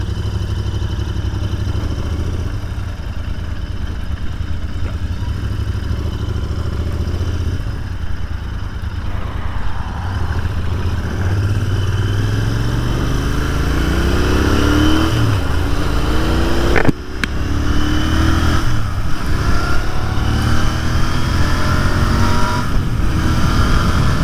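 A 2023 Royal Enfield Continental 650 GT motorcycle pulls away from a standstill on a slope, its parallel-twin engine rising steadily in pitch as it accelerates through the gears, loud and close, with a brief thump midway.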